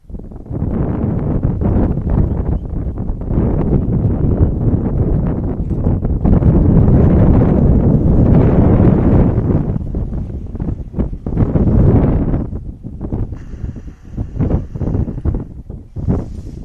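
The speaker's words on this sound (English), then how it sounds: "Wind is moving the camera around there" Strong wind buffets the camera microphone at an outdoor girls' soccer game. It makes a loud, continuous low rumble with gusty swells across the whole stretch, and the game underneath is barely audible.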